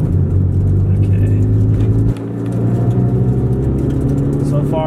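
A 1997 Honda Civic engine rumbles steadily while driving, briefly drops off as it brakes and slows, then picks back up.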